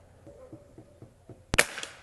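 A single sharp crack from a Seneca Dragonfly MK2 .177 pneumatic pump air rifle firing a pellet, close and loud, with soft faint rhythmic ticking beforehand.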